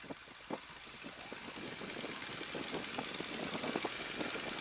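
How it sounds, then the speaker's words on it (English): A Stearman biplane's engine idles steadily with a low, even rumble, with faint knocks and rattles in the cockpit close by and no talk. "Let me check my engine here."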